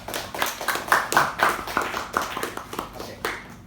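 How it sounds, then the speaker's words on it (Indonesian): Hands clap in applause for a few seconds at a discussion event, a loose scattering of claps from a small group rather than a large crowd, fairly close and fading out near the end. "Aplaus dulu."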